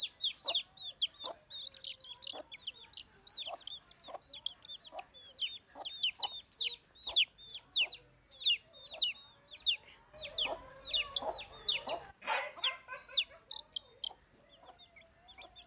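A hen clucks repeatedly near the microphone while three newly hatched chicks peep in quick, high chirps throughout. Both sounds are steady and close, with a brief burst of louder rustling about two-thirds of the way through.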